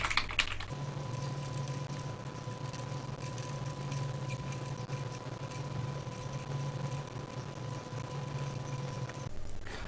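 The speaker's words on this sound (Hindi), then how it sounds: "मैं रेगुलर टाइप कर देता हूँ" Steady typing on a computer keyboard continues for about ten seconds, quiet, close key clicks in an even patter over a constant electrical hum.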